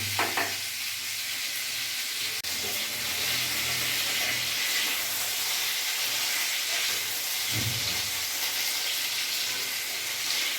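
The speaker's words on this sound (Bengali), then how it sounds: "পটলটা ততক্ষণ ভাজা হোক।" Pieces of pointed gourd frying in hot oil, a steady bright sizzle and hiss running unbroken, with a few soft stirring scrapes and a low knock partway through.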